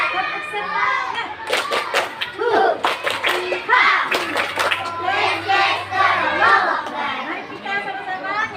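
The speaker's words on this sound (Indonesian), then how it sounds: "tepuk 1, 2, 3. Tepuk semangat." A classroom group of children does a rhythmic tepuk semangat clapping chant, with sharp claps in quick patterned bursts mixed with lively children's voices and chatter throughout.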